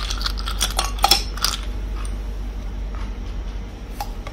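Ice cubes drop into a glass of orange mojito mocktail with orange juice and mint, a burst of sharp clinks and rattles early on, then scattered fainter knocks.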